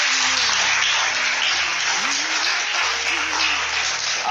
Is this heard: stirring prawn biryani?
no